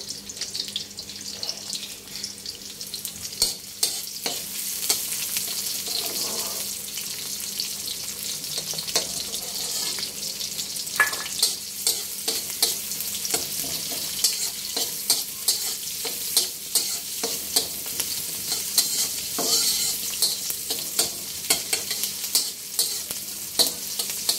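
Chopped onions sizzle and fry in oil in a pan, stirred with steady scraping strokes; a continuous close hiss runs throughout with regular clinks and stirring taps, and no voices.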